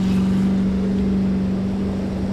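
A vehicle engine in sand mode, fitted with an iThrottle throttle controller, drones steadily at a loud, sustained pitch while driven through sand, with constant wind and rumble mixed in.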